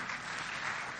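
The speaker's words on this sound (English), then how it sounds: "Please keep clapping." Dense, even clapping from an audience at a business forum of the COMESA summit, a brief unbroken patch of applause that is fairly faint and steady.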